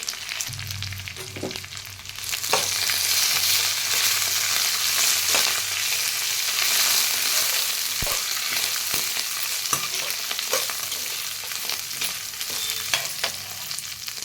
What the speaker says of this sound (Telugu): తర్వాత రెండు ఎండమిరగాయలు తర్వాత కొంచెం చింతపండు మొత్తం ఫ్రై చేసుకోవాలి